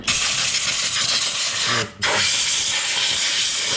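Compressed air blasts loudly around the engine of a VAZ 2110 to clear dirt before the injectors come out, a steady close hiss that breaks off briefly near the middle and then resumes.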